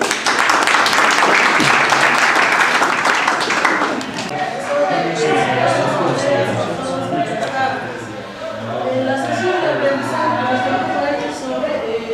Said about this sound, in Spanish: Fuerte de palmas.